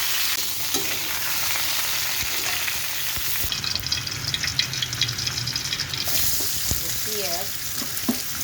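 Pointed gourd and potato frying in fish oil for a catla fish curry, a steady hissing sizzle with stirring scrapes and clatter, close and continuous with no talk.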